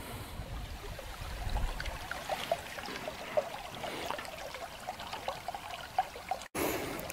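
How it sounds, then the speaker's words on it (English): Dartmoor river flowing past a campsite, heard as a soft, continuous trickling and babbling of water at moderate distance, fairly quiet with small irregular splashes. "Right by the river."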